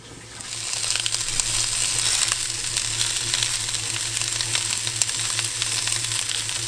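Sausages sizzle and fry in a toastie maker on a campervan stove, a steady, close crackling hiss with a low hum beneath it and no talking.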